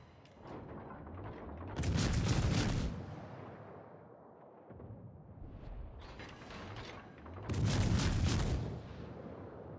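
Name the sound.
battleship gunfire in World of Warships video game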